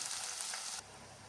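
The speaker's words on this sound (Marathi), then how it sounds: "आता रशाला उकळ आला आहे" Khandeshi shev bhaji gravy coming to a boil in a pot, giving a steady, dense bubbling hiss that is loud for the first part and then drops to a quieter simmer, with no voices.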